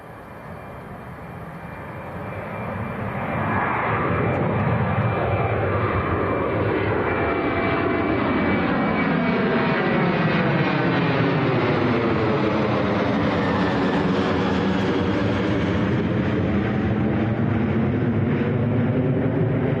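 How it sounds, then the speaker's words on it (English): A Ryanair airliner at Manchester Airport roars loudly and steadily, its jet engine noise building over the first few seconds and then holding strong with a sweeping, phasing rumble as it passes close by. "Okay, this is Ryanair, this is going to Rome."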